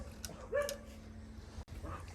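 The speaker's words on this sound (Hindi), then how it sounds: "तो डॉग देखें बाहर भौंक रहा है" A dog outdoors gives a couple of short barks and yips at moderate distance, set against quiet background noise and a faint steady hum.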